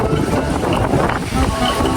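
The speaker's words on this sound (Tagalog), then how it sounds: "sobrang lakas ng hangin" Strong wind gusting steadily and roaring across the microphone outdoors at Leofoo Village Theme Park in Taiwan, a continuous loud buffeting rush with no break.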